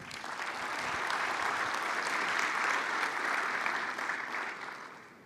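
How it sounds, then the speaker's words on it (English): Audience at a health-technology summit in Rwanda breaking into warm applause, a dense wash of clapping that swells in, holds steady for several seconds, then begins to fade. "Please, a warm round of applause."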